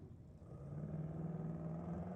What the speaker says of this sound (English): Trevor Mills in a 40 Chevy pickup with a LS.